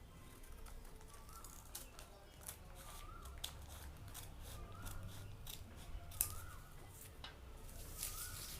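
Scissors snipping and shearing through suit fabric to round out a neckline, with faint intermittent cuts heard close up. Low background noise and brief bird-like chirps sit underneath.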